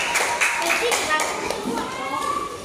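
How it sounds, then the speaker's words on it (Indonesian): Classroom clapping for a student group, a scattered run of claps with children's voices mixed in and talk continuing over it. "tepuk tangan dulu untuk kelompok ini"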